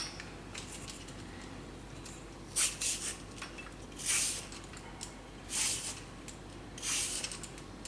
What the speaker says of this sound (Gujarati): તો પહેલાં આપણે કાકડી છે એને છાલ કાઢી લઈશું